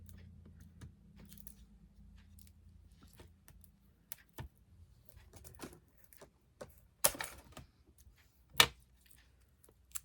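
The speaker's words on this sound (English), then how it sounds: "Sorry for the scissors banging around." Sparse, sharp clacks and knocks of scissors hitting a craft table, irregular and quiet, with a couple of louder bangs amid faint low hum.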